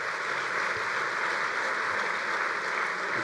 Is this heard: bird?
no